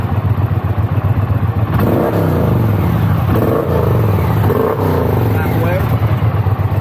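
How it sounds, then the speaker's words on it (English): A motorcycle aftermarket exhaust with its valve set halfway in dynamic mode, the engine revving in several rising bursts from a steady idle, heard under someone talking throughout. "a third option, dynamic mode that sets the valve halfway"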